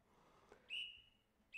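A thin, high whistle sounds once and holds for about half a second, then a second whistle starts just as it ends, over faint background hiss.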